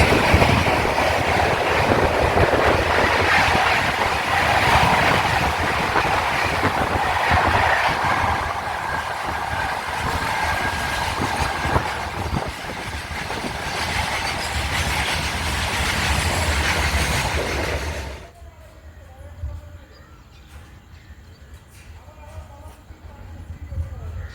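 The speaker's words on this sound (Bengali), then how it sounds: "হাওড়া টু গৌহাটি সরাইঘাট এক্সপ্রেস একেবারে ফ্ল্যাট ওয়ান থার্টি নিয়ে যাচ্ছে সরাইঘাট এক্সপ্রেস" Howrah to Guwahati Saraighat Express train rushing past at speed, a loud, dense roar of wheels and carriages lasting about eighteen seconds, then cutting off abruptly to a quiet background with faint voices.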